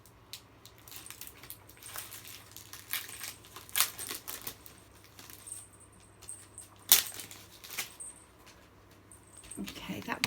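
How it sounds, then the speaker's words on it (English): Packaging being opened by hand at close range, with crinkly rustles, scattered taps and small clicks, plus a sharp crackle partway through and faint breathy speech in the background. "I'm going to take it out the road so the rustling doesn't annoy you"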